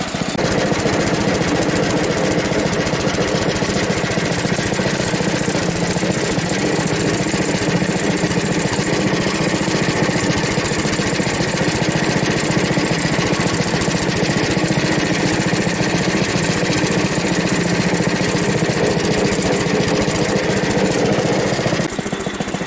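A Frontier OS23 sawmill cuts a log with a loud, constant engine drone and band-saw roar that holds steady for about twenty seconds before cutting off abruptly near the end.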